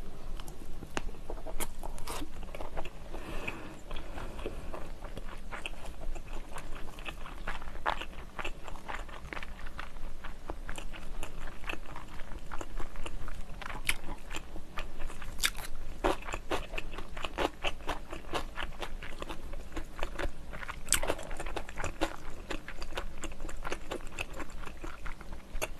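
Close, steady chewing of olive flounder sushi: soft crunches and moist bites repeat throughout, with no talking.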